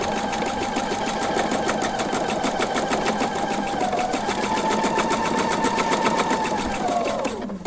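A sewing machine stitches bobbin work in a rapid, even mechanical chatter that holds steady, shifts pitch slightly near the end and then stops, loud and close with no talk.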